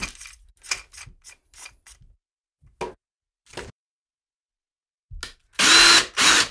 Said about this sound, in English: we're just gonna use the power drill